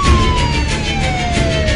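A 112 ambulance siren sounds continuously in Istanbul traffic, a loud, steady wailing tone sliding slowly downward over road rumble, close and without talk.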